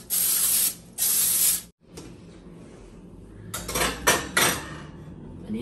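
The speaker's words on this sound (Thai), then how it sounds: "นี่อันนี้ผมจะฉีดสเปรย์กันมันติดขอบนะครับกันติดถ้วย" Butter-flavored, zero-fat cooking spray is shot into a cup in two short, loud hissing bursts, followed by quieter clinks and taps of kitchenware.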